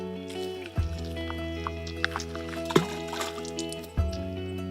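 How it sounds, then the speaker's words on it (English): Rocks thrown into water make three distinct splashes spaced over a few seconds, each a sudden plop, over a steady background hum and faint trickling. "guess their size by the sound of the splash"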